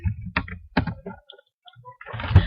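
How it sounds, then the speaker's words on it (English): Keystrokes on a computer keyboard while entering a search into Google's search bar, coming as a few separate clicks and short bursts with pauses between them, close and fairly clear. "So we'll go to Google right down here and typing in the search bar"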